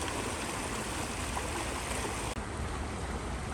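A creek in metro Atlanta flows in a constant broadband rush, close and steady throughout with no voices.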